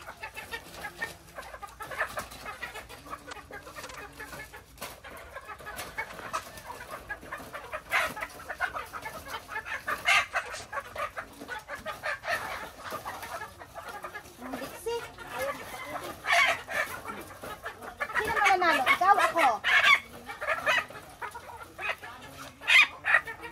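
Chickens cluck and squawk excitedly at close range around a farm with battery cages under banana trees while one bird is caught, with a person talking intermittently among the flurry.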